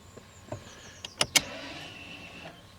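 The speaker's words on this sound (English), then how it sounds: "You can hear the handbrake engage and disengage as normal" An Audi A4 B8's electronic handbrake engages and disengages with a short motor whir and a few sharp mechanical clicks, faint and close inside the car, no talk.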